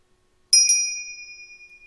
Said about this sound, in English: bring you back with the sound of the bell